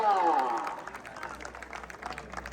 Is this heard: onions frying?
no